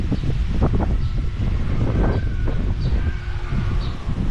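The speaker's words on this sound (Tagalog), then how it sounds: "Lamig dito, malakas ang hangin." Strong, cold wind blows outdoors beside a children's pool in Barangay Kisaw, Pililla, Rizal, a continuous rushing roar buffeting the microphone with low gusty rumbles and faint bird chirps in the background.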